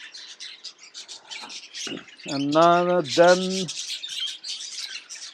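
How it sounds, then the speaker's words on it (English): Pet birds from a breeding pair keep up rapid, high chirping and a few rough squawks at close range, while someone speaks briefly in the middle. "Yeah, that's a bird."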